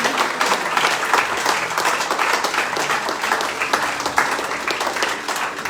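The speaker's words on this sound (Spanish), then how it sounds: "Denle un fuerte aplauso al Señor." A church congregation gives a loud, dense, sustained round of applause that holds steady throughout.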